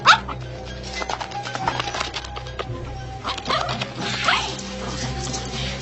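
A pet dog barks and yips at close range in a short, uneven run of barks mixed with handling and rustling noises.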